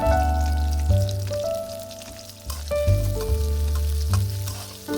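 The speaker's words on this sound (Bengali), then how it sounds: "তেলটা ভালো করে গরম করা হলে পেঁয়াজ কুচি দিব তারপরে কাঁচামরিচ কুচি দিয়ে দিলাম" Chopped onion and green chilli fry in hot oil with a steady, loud sizzle throughout, while tonal background music plays underneath.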